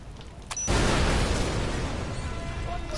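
A loud explosion in Far Cry 4 bursts in suddenly after a quiet lead-in, then rolls on as a broad, sustained roar that slowly fades.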